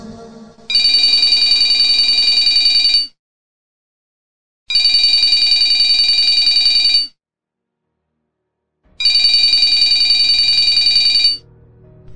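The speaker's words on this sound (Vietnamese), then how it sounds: "Tiếng chuông điện thoại dồn dập vang lên" A telephone rings insistently in three long electronic bursts separated by short silences, loud and close, with no voices.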